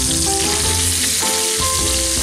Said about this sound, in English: the pork chops are cooking